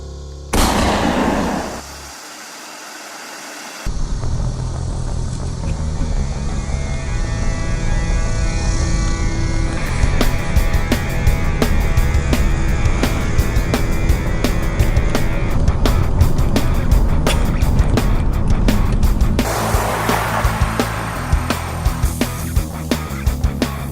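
A Hyundai Palisade SUV's door thuds shut, then its engine starts and settles into a steady running hum with road noise as the vehicle pulls away.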